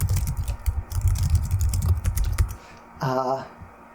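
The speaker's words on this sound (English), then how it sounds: "Typing on her laptop, right? Typing on her laptop." Fingers type in a quick, uneven patter on a laptop keyboard close by. The keys stop near the end, when a short voice cuts in.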